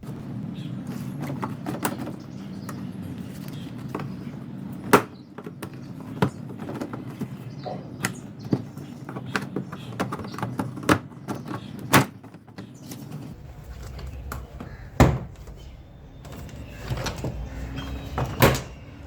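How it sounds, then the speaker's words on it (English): Plastic door panel clips on a 2006-2011 Honda Civic driver's door pop loose as a trim removal tool pries the panel outward, giving a series of sharp, close snaps and clicks spaced irregularly over a low background rumble. "insert the trim removal tool and gently pry outward. You will hear the clips popping out."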